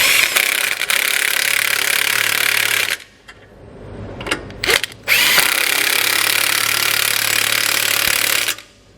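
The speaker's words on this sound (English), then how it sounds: "We now have the clearance we need to finish tightening down our bolts." A power tool tightens the bolts on a Roadmaster rear anti-sway bar bracket under a 2018 Mercedes-Benz, whirring loudly in two long bursts. Short ratcheting spurts and clanks fill the quieter stretch between them.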